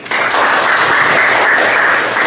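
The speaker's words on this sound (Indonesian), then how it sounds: "Tepuk tangan dulu." Students in a classroom lecture clap together in a steady, dense burst of applause lasting a couple of seconds, loud and close with no voices over it.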